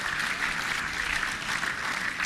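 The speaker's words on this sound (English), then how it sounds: "Let's clap for him again." An audience at a live automation festival in Lagos, Nigeria applauds together, a dense, steady patter of many hands filling the room for a couple of seconds.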